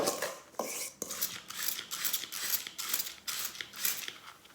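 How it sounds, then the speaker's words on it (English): The back of a spoon crushes a homemade toilet-cleaner mixture in a container, making a close series of rhythmic gritty scraping and grinding strokes, each a short crunchy rasp, repeating steadily without talk. "Now if I crush this with the back of my spoon"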